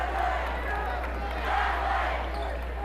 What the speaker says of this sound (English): they're going to say Lincoln basketball.